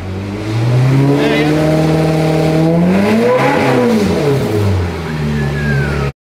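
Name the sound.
old rental Ferrari engine running and revving after reconstruction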